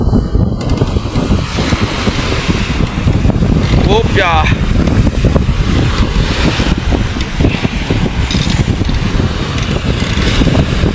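Strong wind and big sea waves at Panabi during the amihan monsoon, heard from a small boat out on the water: a loud, steady roar of buffeting wind and surf throughout, with a voice speaking briefly.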